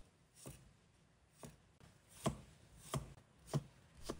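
Garlic cloves sliced with a knife on a cutting board: five or six quiet, evenly spaced taps about a second apart, close but faint over a soft background hiss.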